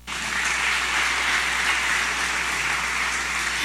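Sustained applause from a church or ministry gathering, steady and fairly loud throughout with no voices over it.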